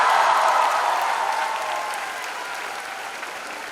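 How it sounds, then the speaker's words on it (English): Dense applause from a large crowd at a film promotion event, loud and steady at first and slowly tapering off, with no speech over it. "A huge round of applause for all those guys on the screen."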